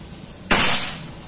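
A single sharp PCP air rifle shot from a Predator Monel Ataman folding rifle with a 30 cm barrel at 3500 psi cracks out suddenly, loud and close, followed by a short hissing decay against quiet outdoor background.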